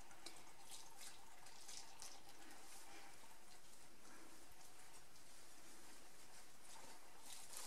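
Water mixed with yeast poured slowly into flour for stovetop pizza dough, a faint continuous trickling and splashing pour that runs steadily throughout with no talk.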